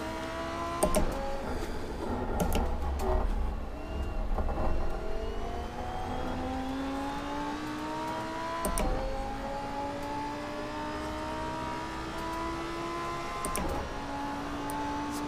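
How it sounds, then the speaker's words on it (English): Lamborghini engine in the Assetto Corsa racing game, revving up through the gears with rising whines, each shift marked by a brief drop and clicks, a sustained loud accelerating drone throughout. "Powering up, coming up to 250, 260, and braking into the chicane here."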